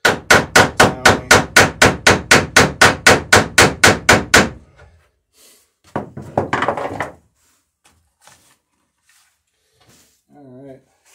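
A boat's rivets are hammered on the Townie, a skiff-type transom, in a steady run of about sixteen loud, close blows at an even rhythm, then a short burst of tapping and a few quiet knocks.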